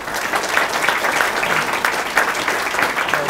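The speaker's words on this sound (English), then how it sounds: "So give them a round of applause." An audience at a public access TV annual meeting applauds steadily, a dense wash of many hands clapping together at even loudness.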